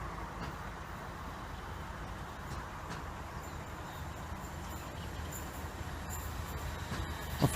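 A Class 153 diesel railcar, unit 153311 bound for Lincoln Central, rumbles steadily past a level crossing, with continuous wheel and engine noise and brief clanks near the end.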